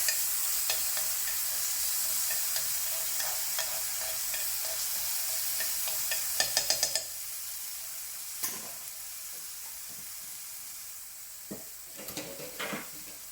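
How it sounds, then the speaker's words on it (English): Garlic frying in hot oil in a pan at home: a constant bright hissing sizzle broken by a few sharp utensil taps and scraping stirs, close by and with no talking. "So there's the garlic. You get the hot oil through it."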